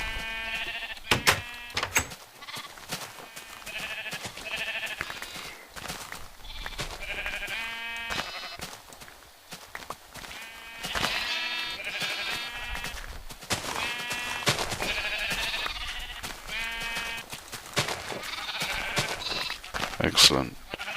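Repeated bleats from a flock of light grey sheep in Minecraft, short nasal calls scattered throughout over clicks and shuffling, with a person talking in between.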